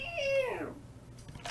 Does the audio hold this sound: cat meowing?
yes